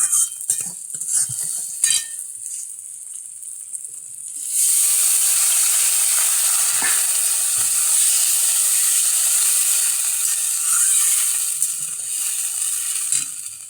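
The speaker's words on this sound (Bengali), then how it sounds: "ঝোলটা ফুটে এসছে" Tomato gravy for koi fish curry, made without onion or garlic, comes to a boil in a pan: a few soft clinks, then a steady, loud hissing bubble that holds to the end.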